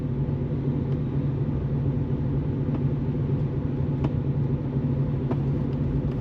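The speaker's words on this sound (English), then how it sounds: "Gingerly bringing the trailer off the Weighbridge." A vehicle slowly pulls a trailer off a weighbridge, a steady low engine rumble close by with faint periodic clicks and knocks over the drone.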